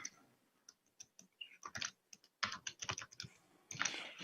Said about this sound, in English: You probably noticed me typing OA there, Moro.